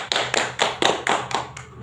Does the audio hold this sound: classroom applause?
yes